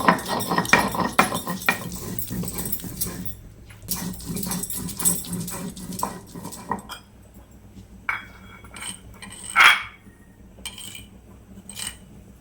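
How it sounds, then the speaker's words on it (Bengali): Poppy seeds are ground into paste, giving several seconds of rough, rhythmic scraping and grinding, then a quieter stretch with a few scattered clinks and knocks. "এবার মা পোস্তটা বেটে নেবে। পোস্তটা বেটে নিচ্ছি।"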